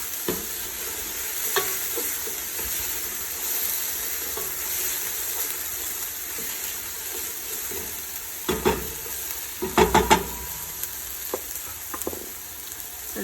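Chopped onion and garlic sautéing in a soup pot, a low steady sizzle with occasional stirring scrapes and a brief cluster of clattering utensil knocks midway.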